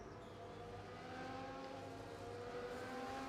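Formula 1 cars lining up on the starting grid in the racing game F1 24 give off a quiet, sustained engine hum with steady tonal whine, faint and even, no talking.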